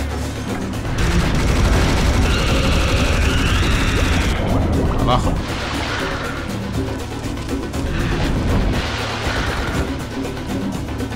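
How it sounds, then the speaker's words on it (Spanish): Video game gunfire and booming explosions in the shooter Serious Sam HD on Xbox 360, a dense continuous barrage of loud shots and blasts with someone talking briefly over it. "Me tirotea todo el mundo, macho."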